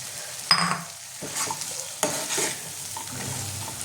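Moringa drumsticks stir-fried with spices in a pan for a Bengali curry, with a spatula scraping and tossing in several bursts over a steady close sizzle.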